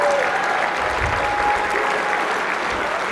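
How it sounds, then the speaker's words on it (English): A room full of people at a keynote claps steadily and loudly for a few seconds, a dense, even wash of applause. "You didn't have to clap for them, really."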